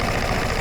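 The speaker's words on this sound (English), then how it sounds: "So you're just hearing a bare engine at the moment." A motorbike engine runs bare with its covers removed, giving a dense, loud, steady mechanical roar and rattle heard up close for a brief moment without any talking.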